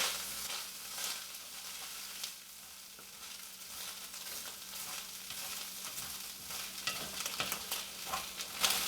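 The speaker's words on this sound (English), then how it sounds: "I'm just taking the edge of my spoon and kind of scraping the bottom of the skillet" A spoon edge scrapes and stirs browning ground beef across the bottom of a skillet for gluten-free hamburger soup, with soft continuous sizzling and repeated close scraping strokes, no talking.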